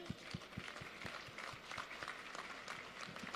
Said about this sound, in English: Can we give a clap to the women?